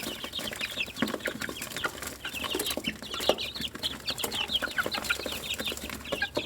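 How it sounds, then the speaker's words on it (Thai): A flock of one-month-old chickens clucks and chatters continuously at moderate distance on a cold, windy day, busy and overlapping, with no talking. "นี่คือไก่หนึ่งเดือนเต็มนะครับ"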